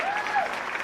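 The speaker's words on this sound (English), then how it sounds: "Jay Stoffel gets a round of applause as he will exit tonight's game" Steady crowd applause at a summer-league baseball game, Roseburg Dr. Stewart's against the Medford Mustangs, as pitcher Jay Stoffel leaves the mound; a continuous wash of clapping with a play-by-play voice talking over it.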